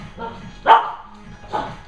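A dog barks twice indoors during a home workout, two short sharp yaps about a second apart with faint talking in between.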